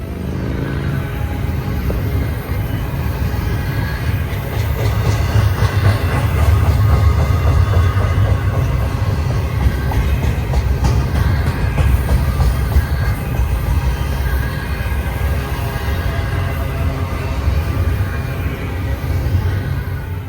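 A train rolls past on the rails through the San Gorgonio Pass, a steady, loud rumble with faint clickety-clack that swells slightly in the middle and holds for about twenty seconds with no talk.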